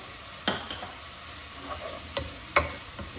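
Chicken breast pieces with ginger are stirred in a hot pan, sizzling steadily while a utensil scrapes and taps against the pan a few times.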